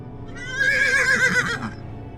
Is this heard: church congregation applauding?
no